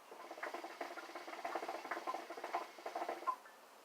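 A SAOCCA hookah smoked without its diffuser gives a soft, rapid, irregular bubbling burble in the water base, heard close up and fairly quiet, with no talk.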